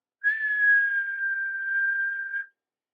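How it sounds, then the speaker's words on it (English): A railway guard's whistle gives one long, steady, shrill blast of about two seconds, close and clear against silence. "as soon as the guard's whistle blew"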